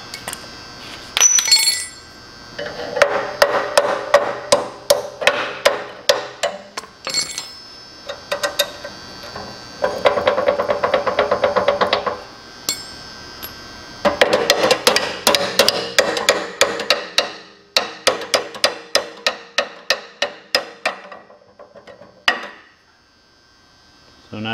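Hammer blows on the axle of a Troy-Bilt tiller to drive off a seal, coming in rapid bursts of sharp metallic strikes with short pauses between groups, loud and close.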